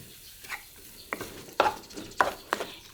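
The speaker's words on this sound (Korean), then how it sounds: "밥은 뭐 큰 술 하나 정도 넣어서 이렇게 비벼주세요" A spoon works cooked rice with shredded carrot and green onion through egg in a pan with the heat off, giving a series of short, separate scraping and clacking strokes, close and moderately loud, with no talk.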